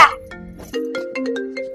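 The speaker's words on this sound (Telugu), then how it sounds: "నాన్నకి ఎవరు ఫోన్ చేస్తారు, లిఫ్ట్ చేయి" A mobile phone rings with an incoming call in a village home, its melodic ringtone stepping through clear, bright tones at steady loudness, close by.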